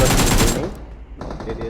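Automatic rifle fire in the battle game PUBG on the Erangel map, a loud sustained burst of rapid shots for about half a second, a brief lull, then another stretch of gunfire, with no speech.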